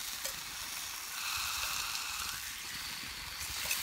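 Bacon frying in a pan on a Trangia camping stove outdoors in the woods, giving a steady, close, hissing sizzle that continues unbroken throughout with no voices.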